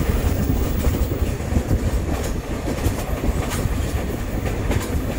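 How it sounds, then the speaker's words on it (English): A TGM-8 diesel locomotive hauls a train on Cuban rails toward Guantanamo, heard as a loud, continuous rumble of wheels with steady clickety-clack rail joints and brief metallic squeals throughout. "Here is one with a TGM-8 locomotive heading towards Guantanamo"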